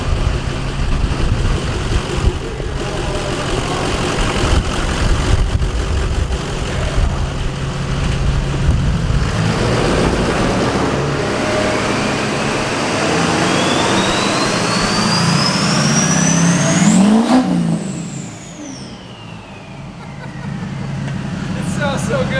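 A Duramax diesel truck engine with a compound turbo kit revs up with a rising high-pitched turbo whine, peaks loudly, then drops back to a rumble, with people talking over it.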